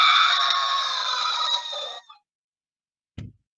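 A human voice imitates a chicken with laryngotracheitis, giving a strained, wheezing, crow-like call of about two seconds that trails off, followed after a pause by a brief low thump.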